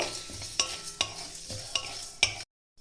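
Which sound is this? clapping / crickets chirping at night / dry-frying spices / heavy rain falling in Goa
dry-frying spices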